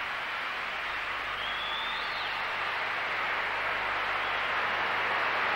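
A gymnastics arena crowd at a world championships gives sustained thunderous applause, a dense steady wash of clapping filling the hall without a break.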